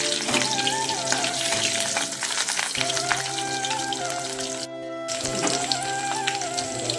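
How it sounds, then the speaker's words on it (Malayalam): Ginger and garlic sizzle loudly as they drop into hot oil for a Kerala chicken fry, a steady frying crackle with stirring clatter and a brief pause partway through. "എണ്ണ ചൂടായിട്ടുണ്ട്. നമുക്ക് ഇഞ്ചി ഇട്ട് കൊടുക്കാം. വെളുത്തുള്ളി ഇട്ട് കൊടുക്കാം."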